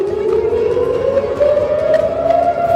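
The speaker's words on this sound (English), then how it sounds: "Bomb sirens blare as fear of all-out war rises." A wailing air raid siren sounds steadily in Israel, its tone slowly rising, loud and sustained throughout.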